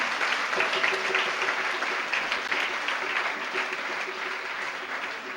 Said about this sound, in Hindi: एक बार संपूर्ण परिवार के लिए जोरदार तालियां बजाओ।